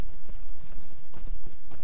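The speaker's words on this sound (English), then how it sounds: "I've never taken this horse ride before, so it's going to be interesting to see where it leads us." Horse hooves clip-clop at a steady walking pace in the LOTRO video game, a close, even rhythm of soft thuds over a continuous low rumble.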